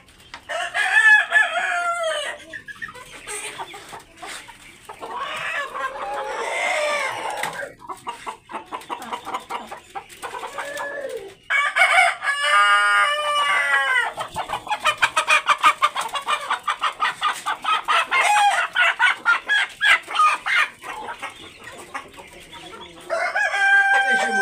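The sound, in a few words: Hili hill chickens, rooster crowing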